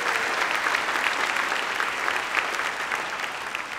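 Audience applause at a lecture series event, a steady, even wash of many people clapping for sponsors and young attendees, moderately loud and continuous without speech.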